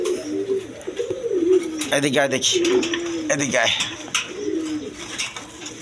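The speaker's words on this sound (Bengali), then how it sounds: "এক পেয়ার কোয়ালিটি সম্পন্ন কবুতর আছে দেখেন, অরিজিনাল বোম্বাই, ইন্ডিয়ান বোম্বাই।" A pair of crested Indian Bombay pigeons coo in soft, throaty repeated phrases close by, rising and falling over several seconds while someone talks over them and calls to the birds.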